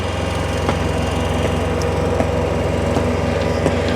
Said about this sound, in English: they're taking the Bobcat down that way